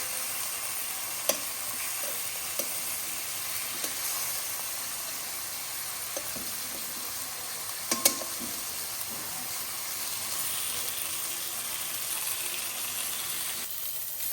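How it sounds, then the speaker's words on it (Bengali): Tomatoes dry-roasting without oil in a pan on a gas stove in a home kitchen, giving a steady soft sizzle and hiss with occasional faint clicks and stirring taps throughout, no talk. "এই যে বন্ধুরা দেখেন আমি টমেটোগুলো কীভাবে বাইজা নিলাম"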